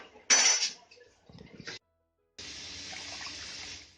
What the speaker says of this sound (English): I'm gonna add a little bit more water because it looks like it might need some water.